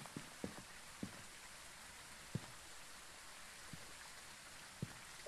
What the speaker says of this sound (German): Der Regen ist krasser.